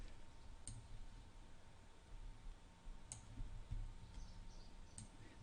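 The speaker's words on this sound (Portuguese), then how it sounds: "clicar duas vezes" Sharp double clicks of a computer mouse, one pair near the start and others spaced a few seconds apart, faint and close over a low background hum.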